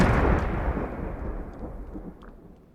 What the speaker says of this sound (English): Peter dresses as the Joker and completely decimates the hospital with a series of explosions.